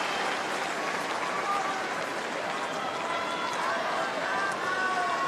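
A tennis crowd at the 2012 Australian Open final between Nadal and Djokovic applauds in a steady, distant-sounding wash of clapping that holds evenly for about five seconds.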